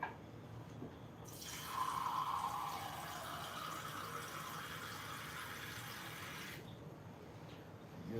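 Water runs steadily from a tap into a container for about five seconds, a continuous close rush of moderate loudness that starts abruptly and cuts off cleanly, with a few faint drips after.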